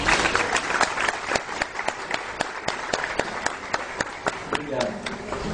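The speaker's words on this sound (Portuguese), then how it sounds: "Uma salva de palmas para elas." At a religious education conference, an audience applauds with sharp, evenly spaced claps standing out above a softer crowd clatter, and a voice briefly sounds near the end.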